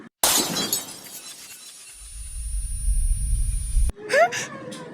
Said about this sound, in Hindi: कांच टूटने की आवाज, क्या हुआ है?